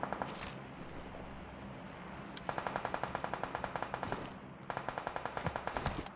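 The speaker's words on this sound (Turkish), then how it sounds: "Orada fena bir çatışma var." Bursts of automatic gunfire from a firefight in the video game PUBG Mobile, rapid evenly spaced shots rattling in two long volleys with scattered single cracks, moderately distant and alone without speech.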